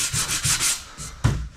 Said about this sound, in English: Just taking down the high spots with a 120 grit on a block sander.